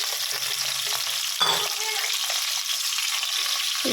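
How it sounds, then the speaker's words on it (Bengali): Potatoes frying in hot oil in a pan: loud, continuous hissing sizzle with a couple of brief stirring knocks, close and steady throughout, no talk. "তেল গরম হয়ে গেছে আলুগুলো একটু ভেজে নেবো আলুগুলো দিয়ে দিলাম"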